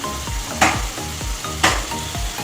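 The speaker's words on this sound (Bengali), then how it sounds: "অল্প দেবো আদা। ভালো করে কষে নেব।" Ginger paste frying in a pan for a spicy Bengali fish-bone curry, a steady loud sizzle with rhythmic scraping stirs and two sharp clatters of the spatula against the pan, no voices.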